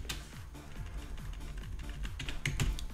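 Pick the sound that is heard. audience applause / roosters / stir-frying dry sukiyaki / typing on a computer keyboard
typing on a computer keyboard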